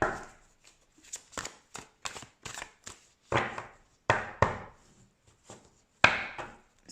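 Oracle cards, including a heart chakra oracle deck, are shuffled by hand close up. Irregular soft riffling bursts are separated by short pauses, with no voices.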